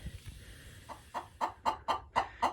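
Farm chickens cluck close by in a quick series of about seven sharp, rising calls that come faster toward the end, with no talking over them.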